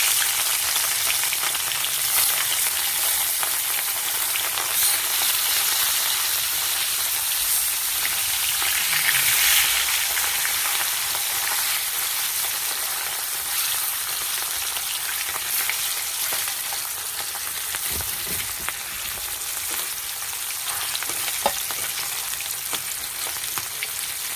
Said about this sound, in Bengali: তেলটা গরম হয়ে গেছে, মাছ দিয়ে দিচ্ছি।